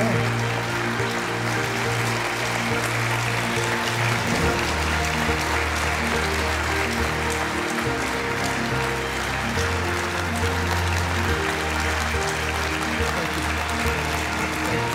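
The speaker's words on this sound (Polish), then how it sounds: "Wielkie brawa dla laureata" A gala audience gives the laureate dense, sustained applause, loud and continuous from start to finish, with a low steady hum of tones underneath.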